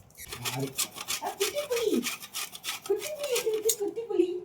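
Amul dark chocolate being grated into shavings for a cake coating, giving a steady scratchy rasp with rhythmic strokes throughout, while people talk over it.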